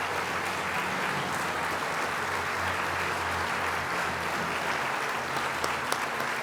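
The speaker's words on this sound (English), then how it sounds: "Everybody give them a round of applause." Guests at a garden gala applaud the event's committee members, a sustained, even roar of many hands clapping at a fair distance, steady throughout with no voices over it.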